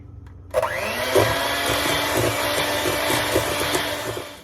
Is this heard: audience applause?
no